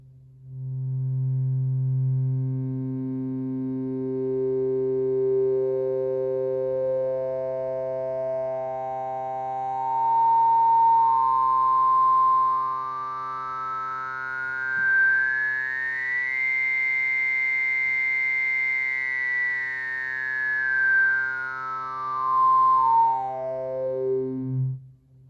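A steady synthesizer tone on an ASM Hydrasynth whose harmonics rise one by one in a long sweep up, then fall back, bright and buzzy at its peak, no voices.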